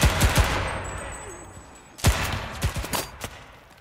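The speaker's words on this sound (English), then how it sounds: "Oh, another machine gun." Machine gun fire in the World War II shooter Enlisted comes as a few sharp close bursts, then a second volley of rapid shots with ringing decay.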